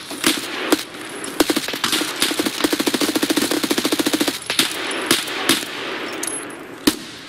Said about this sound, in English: I don't know why you're shooting that.